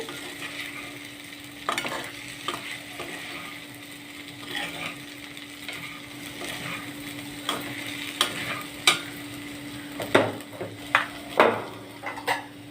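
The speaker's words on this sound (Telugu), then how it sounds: "ఇప్పుడు మూత పెట్టకుండా 2 నిమిషాలు ఇలా వేయిస్తా" Curry frying uncovered in a pan, a steady low sizzle with occasional stirring scrapes and clicks of a utensil against the pan, growing more frequent toward the end.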